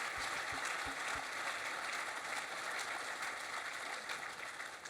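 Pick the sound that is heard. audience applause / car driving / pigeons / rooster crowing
audience applause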